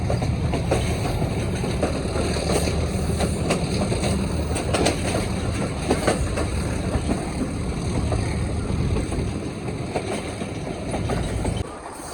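A Pakistan Railway train running on its tracks between Wazirabad and Malikwal, with a steady loud rumble and rhythmic clickety-clack of wheels over rail joints continuing throughout, no talking.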